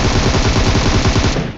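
Rapid automatic gunfire from a shooter video game, a loud dense burst of rattling shots that runs without a break and fades at the end, with no voices.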